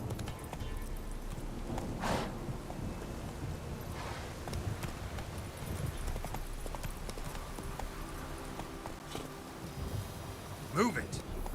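Roach, the horse in The Witcher 3, gallops with steady clip-clop hooves throughout, joined by ambient game sounds and a brief sharper accent near the end.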